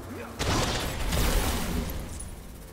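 Sonic cannon blasting a door open in Lego Star Wars: The Skywalker Saga, a sudden loud booming burst followed by a rumbling, crackling blast that slowly fades, with no talk over it.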